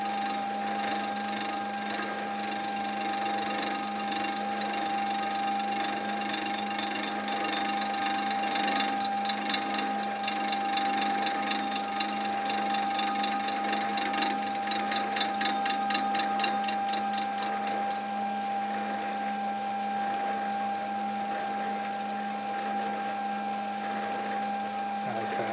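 A Stuart Beam model steam engine running steadily at about 234 RPM, giving a continuous close mechanical whir with a fast, regular ticking rhythm that grows more pronounced midway and then smooths out.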